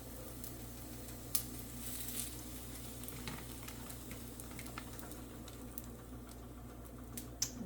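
Vegan shrimp frying in a pan, a faint, steady sizzle with light crackles and a few sharp ticks, close but quiet and with no talk over it.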